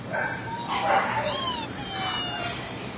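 Puppies whimper and yip in high, thin bursts, with brief squeaks rising over a steady room background and no talk in between.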